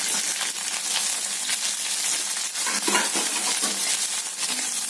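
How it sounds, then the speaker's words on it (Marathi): Onion and green chili fry in hot oil, a continuous bright sizzle broken by repeated scraping stirs of a spoon against the pan, close and steady throughout. "आता आपण कांदा घालूया आणि मिरची पण त्याबरोबरच घालूया।"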